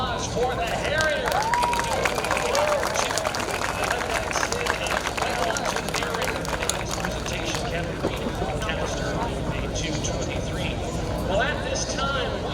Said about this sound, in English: a big round of applause for the Harrier